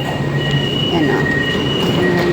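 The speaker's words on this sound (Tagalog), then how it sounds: "ayan na yung tren natin." Train pulling into the Sentul Barat LRT station in Kuala Lumpur, rail noise rumbling steadily with faint wheel squeal and hum for a couple of seconds, close and continuous.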